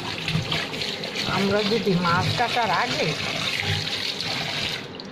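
Tap water runs steadily into a sink while hilsa fish is rinsed underneath, with a continuous close splashing rush and a person talking over it.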